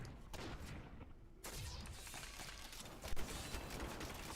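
A machine gun bow in the Diablo video game fires a rapid, dense volley of mechanical shots, clattering bursts repeating quickly at moderate volume with a brief pause partway through.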